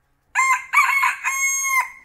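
A rooster in the video game Feather Family crows loudly and alone, a close, drawn-out cock-a-doodle-doo in three connected bursts.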